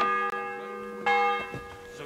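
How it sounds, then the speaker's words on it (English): Church bell tolling in the medieval video game Kingdom Come: Deliverance II, two resonant strikes ringing out clearly with a long metallic hum decaying between them. "The bell's ringing for hands the 5th time."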